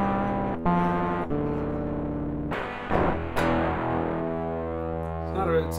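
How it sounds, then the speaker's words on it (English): A heavily distorted electric guitar through a fullwave rectifier distortion pedal plays sustained, buzzing notes with harsh, gritty overtones and wobbly pitch, a few chords changing in slow succession. "I'm on the fullwave rectifier, which is kind of a distortion."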